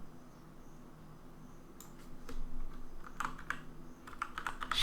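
Someone types on a computer keyboard while building a website, with faint quiet clicking that grows into a busier run of keystrokes toward the end over a low hum, with no talk.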